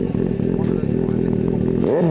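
A Suzuki GSX-S750 inline-four with an Arrow exhaust revs loud and close, its engine note steady and harmonic-rich before sweeping sharply upward at the end.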